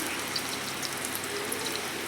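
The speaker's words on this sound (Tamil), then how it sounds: "இப்போ வந்து நம்ம மிக்ஸ் ஜாரை கழுவி அந்த தண்ணியும் சேர்த்துக்கலாம்" Water running and splashing while a mixer jar is rinsed in a home kitchen during paneer butter masala preparation, a soft, steady trickling gush heard faintly and alone.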